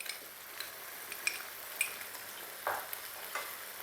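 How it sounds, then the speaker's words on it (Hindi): Chicken frying in a pan with garlic ginger paste for a chicken korma: a faint, steady sizzle with occasional pops and soft clinks of a utensil stirring against the pot. "तो चिकन को हमने इसमें अभी फ्राई करना है"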